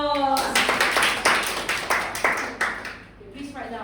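A small audience claps together, a dense run of hand claps that swells then tapers off, with a voice speaking over the start and end of it.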